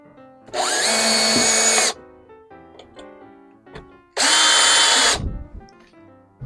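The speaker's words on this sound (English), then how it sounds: "we're going to screw this onto here" Power drill driving screws to fix a metal angle bracket onto a Jiffy Pop popcorn handle, two loud whirring bursts of about a second and a half each separated by quiet handling clicks.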